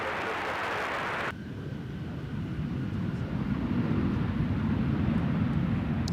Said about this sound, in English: yet another Delta 717 arrival